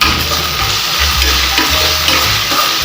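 Onion and tomato frying in oil for Karnataka-style thoor dal sambar, a loud, steady broadband sizzle with repeated low scraping stirs running throughout and no one speaking.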